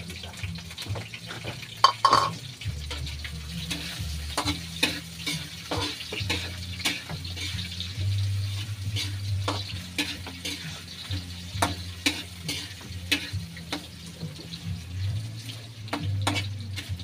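Skinless sausage frying in a hot pan gives a steady crackling sizzle, with occasional stirring clinks and scrapes of a utensil and a low hum underneath, close and continuous.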